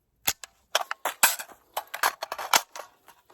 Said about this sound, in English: Finger forward, drop the mag,